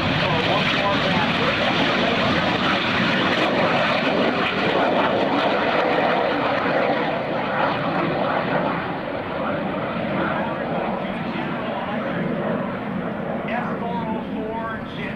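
A loud, sustained jet roar from an F-117 Nighthawk stealth jet with two F404 engines fills the whole clip, a broad rushing drone that swells and slowly fades as it passes at an air show, with people talking underneath.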